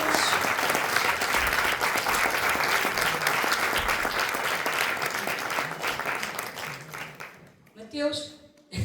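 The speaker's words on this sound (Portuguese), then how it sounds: "E uma salva de palmas para o Mateus." An audience at a book launch bursts into sustained, loud applause that fills most of the stretch, then fades out near the end as a speaking voice returns.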